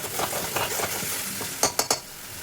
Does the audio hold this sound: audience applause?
no